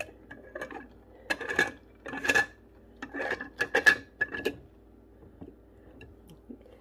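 A plastic lid is twisted onto a coffee cup with cream in it, giving several short bursts of scraping and rubbing in a cluster, close and fairly crisp, then quieter fiddling.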